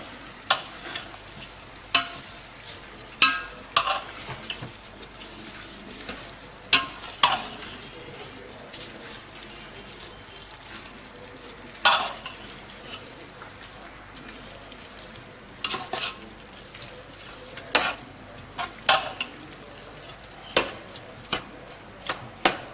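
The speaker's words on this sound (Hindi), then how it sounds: "अब अच्छे से हम इसको मिक्स कर लेंगे।" A spoon stirs haleem in a pot after kewra and gram flour go in, scraping and knocking against the metal in scattered clinks over a faint steady sizzle, close by with no talk.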